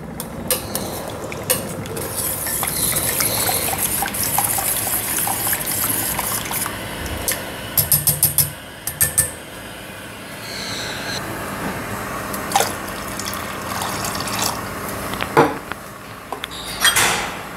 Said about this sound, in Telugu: ఇప్పటి వరకు నేను 3 గ్లాసులు నీళ్ళు పోసాను.